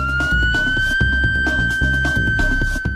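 A police siren wails loudly and steadily, its tone cycling rapidly over a rhythmic pulsing backdrop, close and dominant throughout.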